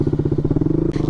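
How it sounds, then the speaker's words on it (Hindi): Motorcycle with a modified exhaust idling close by, a loud, rhythmic thumping pulse with an even beat and a brief hiss near the end, no voices over it. "एग्जॉस्ट भाई मॉडिफाइड है मेरा"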